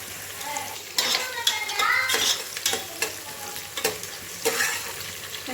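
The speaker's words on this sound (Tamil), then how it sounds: "வெங்காயம் நல்லா ப்ரௌன் கலர்ல ஆகும்." Onions fry toward brown in a pan for chicken biryani, giving a steady sizzle. A spoon scrapes and knocks against the pan now and then as they are stirred.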